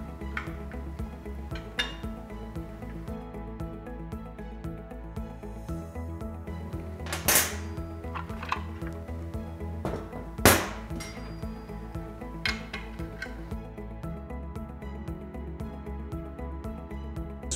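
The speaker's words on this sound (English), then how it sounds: "I will start by removing the motor bracket from the back end" Bolts being removed from the motor bracket of an Armstrong seal bearing assembly: scattered metallic clinks and taps of tools on steel, a couple sharper and louder, over a steady low hum.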